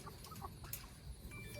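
Free-range chickens cluck softly at close range, a rooster among the flock, with short murmuring calls over a steady low outdoor rumble.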